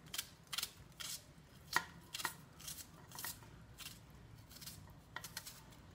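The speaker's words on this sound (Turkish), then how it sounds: "üzerine bir adet soğanımı yemeklik doğruyorum" Knife chopping an onion on a board while preparing a purslane dish, a quiet irregular run of crisp, sharp cuts spaced through the clip with soft pauses between them.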